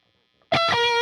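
Heavily distorted electric guitar playing a riff at full tempo, bursting in loud after a near-silent start with dense, sustained chugging chords and ringing overtones.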